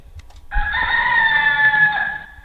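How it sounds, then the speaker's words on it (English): A rooster crows once, a loud, sustained cock-a-doodle-doo lasting nearly two seconds, close and clear. It is probably a performed or recorded call in a folk tale, following the donkey, dog and cat. "Crowed the rooster."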